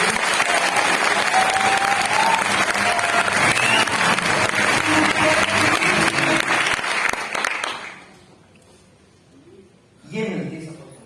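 A large audience bursts into loud, sustained applause that fades out after about eight seconds, followed by a short second burst of clapping.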